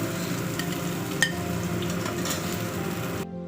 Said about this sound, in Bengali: আমি কড়াইয়ে তেলের মধ্যে একটু কালো জিরে ফোড়ন দিয়ে দিলাম।